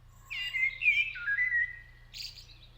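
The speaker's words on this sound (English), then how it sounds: "it's like a series of whistle-like sounds" A single bird gives a clear series of whistle-like calls, close and alone: sliding, tonal notes running together for about two seconds, then a brief higher phrase, over a faint low hum.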